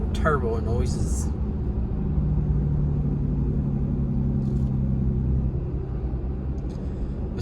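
A turbocharged Cheetah car engine drones steadily at close range inside the moving car, a deep continuous rumble with a brief higher burst near the start and a few faint clicks later.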